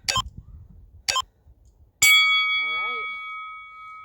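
An interval timer goes off during a full-body dumbbell and bodyweight HIIT session: two short sharp beeps, then a loud bright chime that rings on and slowly fades, with a voice briefly talking over it.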